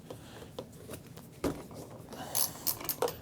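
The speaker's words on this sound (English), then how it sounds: "normally I wouldn't use a 1/4 drive ratchet for this" Quarter-inch drive ratchet working a two-stroke spark plug loose on a dead R2-Cruiser powered scooter, a few short clicking pawl bursts and scraping clatter, close and fairly quiet, with no voices.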